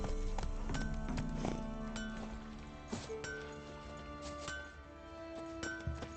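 Roach the horse gallops in The Witcher 3, with steady hoofbeat clip-clops and a few clinks over a continuous tonal game score.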